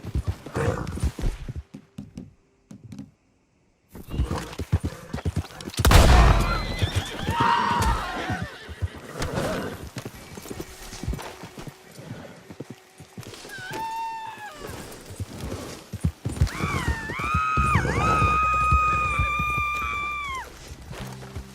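In Red Dead Redemption 2, a horse whinnies several times between scattered hoof clops and shuffling, with a long loud neigh toward the end.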